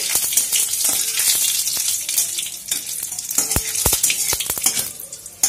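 Whole tempering spices fry in hot oil for a pumpkin and potato curry while being stirred, a loud continuous sizzle with occasional sharp clicks of the spoon against the pan.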